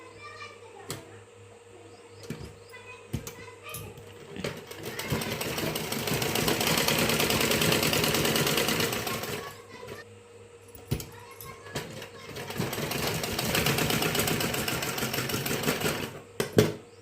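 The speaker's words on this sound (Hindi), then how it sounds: "ऊपर से एक और सिलाई मारे।" A sewing machine stitches a blouse in two long runs of rapid, buzzing whir that start and stop, separated by scattered handling clicks and taps close by.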